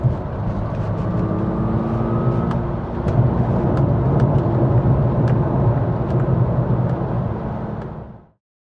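A 1995 Ferrari 456 on a road test, its engine droning steadily at close range with a rising rev pass early on, continuous and loud until it cuts off abruptly near the end.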